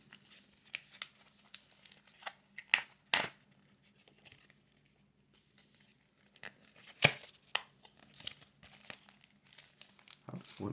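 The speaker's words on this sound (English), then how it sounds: "I'm going to take them out of the cardboard first" Cardboard packaging around trading card packs being torn and crinkled open, a string of sharp ripping and crumpling bursts with quiet pauses between, close up and with no talking.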